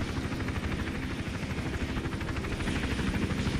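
Helicopter in the video game Hitman: Absolution, a steady, loud rotor drone with a continuous chopping throb that holds evenly throughout, no talk over it.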